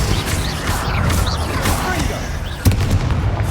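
Bombarda and Confringo explosion spells going off in the video game Hogwarts Legacy, a continuous barrage of loud booms and crackling blasts with one sharper hit near the end.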